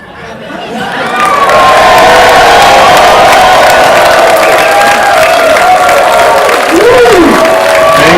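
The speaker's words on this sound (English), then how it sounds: "we need everyone to cheer as loud as they can" A packed movie-screening audience cheers and shouts loudly at a Q&A event, a sustained roar of voices and whoops that swells within the first second and holds at full strength throughout.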